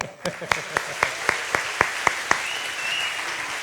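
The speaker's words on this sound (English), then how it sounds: "a round of applause for our class of 2022, so let's do it again" At the 2022 ISPP graduation ceremony, an audience claps for the graduating class of 2022 in sharp, evenly spaced beats, about four per second, against a soft hall murmur before trailing off.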